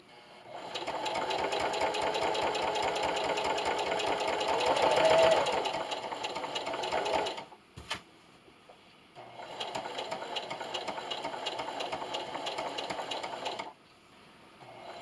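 A sewing machine stitches a baby bib in two steady runs of rapid rhythmic needle chatter, separated by a short pause with a click, close and clear.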